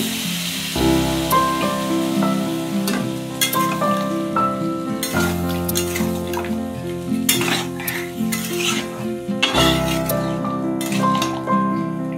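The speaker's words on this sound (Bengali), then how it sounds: "এখন দিয়ে দেবো অল্প একটু জল কষানোর জন্য।" Water goes into a pan of taro and shrimp curry, village-style cooking, with loud sizzling, scraping and clinking of a metal spoon stirring, bursts of hiss recurring every few seconds close up.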